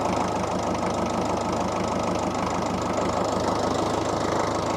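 A tiller's small engine runs with the clutch in, a steady close mechanical drone with a fast knocking pulse that holds even and unbroken throughout, with no talking.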